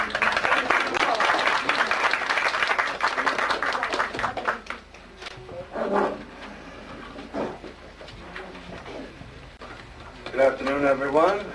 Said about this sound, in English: please let's give a warm welcome of applause